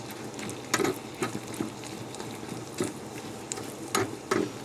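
A spoon stirs urad dal soup with chili powder in a pot, with intermittent scraping strokes and clinks at irregular intervals over a quiet background.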